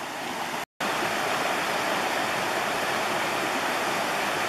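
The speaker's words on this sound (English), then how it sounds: "a lot of water running in here yet" A river in Sitka runs with a lot of water, making a steady, loud, broadband rush with a brief dropout near the start. No voices are heard.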